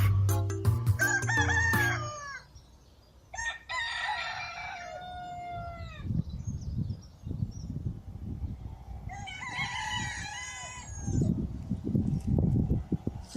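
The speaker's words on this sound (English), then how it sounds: "there's a lot of cockadoodle doing going on" Several fancy roosters crow in turn, loud cock-a-doodle-doo calls rising at the start, around four seconds and again near ten seconds, with clucking hens and low rumbling background noise between calls.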